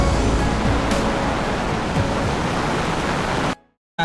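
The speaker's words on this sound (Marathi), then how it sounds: "तिथे तुम्हाला पाण्याचा फ्लो समजेल." Floodwater rushing through a village after heavy rain, a loud, dense, continuous roar of flowing water that cuts off abruptly near the end, with no voices.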